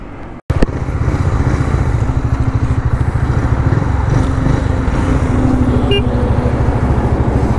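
Motorcycle engines, a Bajaj Dominar 400 and a Royal Enfield Continental GT 650, idle and rev loudly and steadily close by at the start of a drag race, with a brief sharp break near the beginning.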